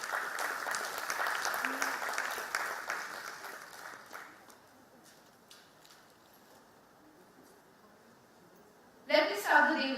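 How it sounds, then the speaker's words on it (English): A crowd of delegates at a forensic conference on drug abuse at Sion Hospital bursts into loud, dense clapping that thins and fades after a few seconds, leaving quiet room tone before a brief louder sound at the end. "A huge round of applause for Dr. Devkar, please."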